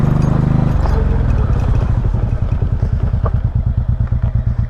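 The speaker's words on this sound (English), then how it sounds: "Comes right back down to an idle pretty nicely" A Honda Shadow motorcycle engine runs loud and close, a sustained rev that drops back into a steady, lumpy idle with rhythmic thumping pulses.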